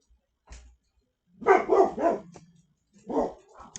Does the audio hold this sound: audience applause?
no